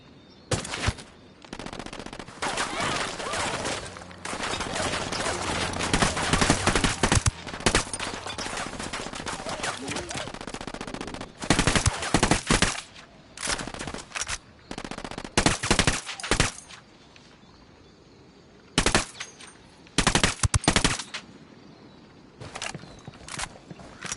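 Gunfire in the video game Ghost Recon comes as loud, close bursts of automatic fire broken by short gaps of near silence, with sharp single shots and rapid strings of rounds.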